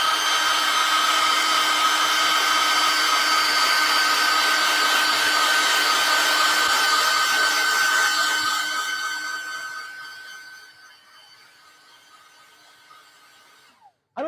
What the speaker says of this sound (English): let's blow dry that again